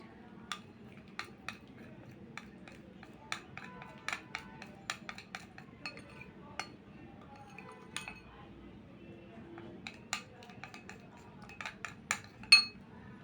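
A spoon clinks lightly and irregularly against a bowl while stirring a face pack mixed with shampoo, giving faint, scattered taps over a soft background.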